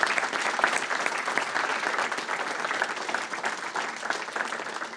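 Applause from an audience at a board of education meeting, a steady dense wash of clapping that holds for the whole stretch with no talk over it.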